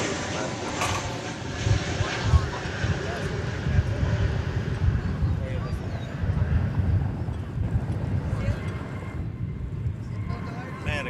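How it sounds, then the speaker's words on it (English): An American Airlines Boeing 787-8 arriving from Tokyo Narita passes at DFW Airport. A broad, steady jet roar with rumbling low end and wind buffeting carries on throughout at moderate distance. "American Flight 60 from Narita Airport in Tokyo. That'll be a 7878 model."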